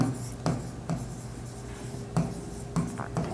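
Handwriting an accounting entry for accumulated depreciation, pen scratching on paper in short strokes with several distinct taps and pauses, close and fairly quiet, no voices.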